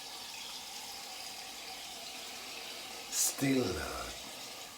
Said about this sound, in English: Rinse it off a bit, see how that works.